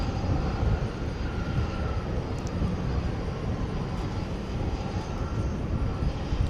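A passenger airplane at DFW Airport at night taxiing toward the runway, producing a steady, loud, continuous engine roar and rumble that holds evenly throughout, with no voices.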